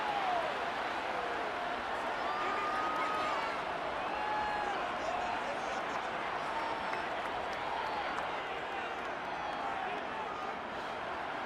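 A packed stadium crowd roars and cheers in a Madden 23 simulation of a Titans vs Chargers NFL game, building before a big third down. The dense, steady roar holds loud and unbroken throughout, with faint whistles rising above it.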